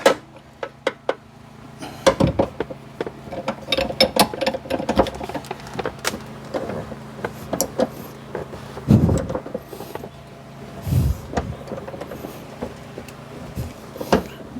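Steel bar used as a lever to turn a glued rear-seat bolt in an Aion Y Plus EV, giving irregular metallic clanks, knocks and scraping of tools against the seat frame, close up with no talk.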